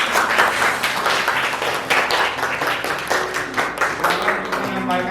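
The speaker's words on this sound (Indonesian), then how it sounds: "Tepuk tangan buat kelompok 4." Classroom applause for a student group in a mathematics lesson, a burst of many hands clapping steadily and fairly loud, with voices mixed in underneath.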